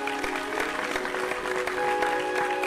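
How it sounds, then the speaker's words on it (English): An audience claps steadily at an annual symposium, a dense wash of hand claps holding at an even level for a few seconds. "Applause from the audience, but not from me"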